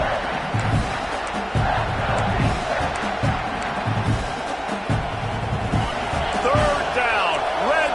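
Football stadium crowd at Michigan vs Notre Dame roaring continuously during a third-down red zone play, a dense wash of cheering with scattered thumps, heard under a commentator's voice.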